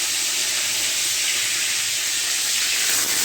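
Bay leaves sizzling in hot oil in a pan for a Bengali fish curry, a steady broadband hiss and crackle that stays close and loud throughout with no talking.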